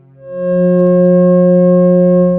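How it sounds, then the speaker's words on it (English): Two pure tones, F sharp and the C sharp a fifth above, swell in quickly and hold together as one loud, steady, unwavering sound. "They are F sharp and its perfect harmonic fifth of C sharp."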